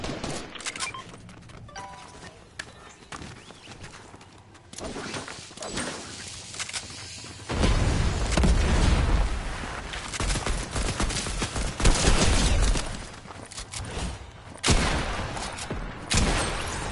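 An AK rifle fires in Fortnite in loud bursts of gunfire layered with game effects and thuds, growing dense and continuous partway through.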